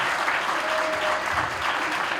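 A live audience at a karaoke final applauds, a dense, steady clapping that stays loud for the whole short stretch.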